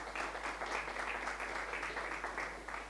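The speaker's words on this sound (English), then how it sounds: "Please give him a round of applause." Audience applause at a live sommelier contest, a dense, steady clapping from a crowd that carries evenly throughout and fades slightly at the end.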